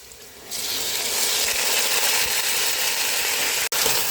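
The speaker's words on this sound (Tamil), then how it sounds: "இப்போ வந்து 3 தக்காளி வந்து பெருசாக வெட்டி வச்சுக்கிறேன், போட்டுக்கலாம்" Three large chopped tomatoes tipped into a hot pan for a spicy turkey neck curry. A loud, steady sizzle bursts in after a quiet half second and holds evenly, broken once by a sharp click near the end.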